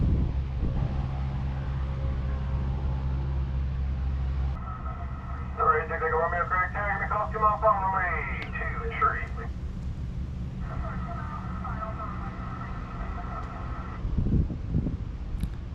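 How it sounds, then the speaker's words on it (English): Radio transmissions from a control tower frequency at CRG airport, heard as bursts of narrowband radio chatter over a steady engine-like hum, with clear gaps between transmissions. "In addition to the audio that we would hear from the tower."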